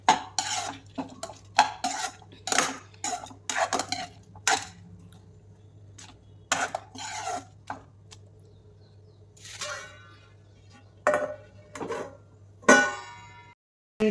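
Tomatoes simmering in a pan are stirred and mashed with a metal utensil, giving repeated sharp scraping and clinking strokes in uneven bursts, with a faint steady hum beneath and no talking.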